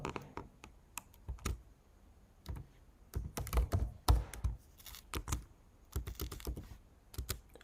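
Close, crisp clicking of computer keys while a password is typed, in uneven bursts with short pauses, some stretches faster and denser than others.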